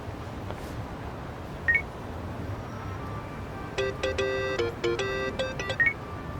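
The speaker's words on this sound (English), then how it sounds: "Kasuga, call me on your phone." A phone in the Yakuza: Like a Dragon game dials a call, giving a string of short electronic keypad beeps in quick groups over a low ambient hum, with a couple of isolated beeps before the main sequence.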